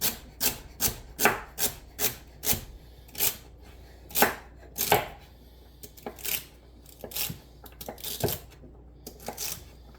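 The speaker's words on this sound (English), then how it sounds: "So cut these down to about the size of the onions." Knife chopping celery pieces on a cutting board for elk chili, a quick series of sharp, close taps in uneven bursts, some rapid runs and some spaced strokes, with no talking.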